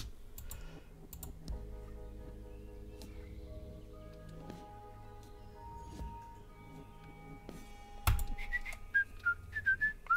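Whistling in the point-and-click video game Trüberbrook, a melodic whistle calling for a delivery, heard among game music and clicking, with a brighter burst near the end.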